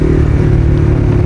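Fully modified NS 200 motorcycle engine revving loud and close, a dense continuous mid-pitched roar with rattling clatter, no voices.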